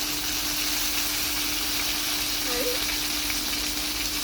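Continuous sizzling of potato and eggplant frying in oil, a steady close crackle and hiss with a faint hum underneath.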